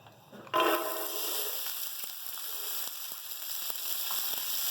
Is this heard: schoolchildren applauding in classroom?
no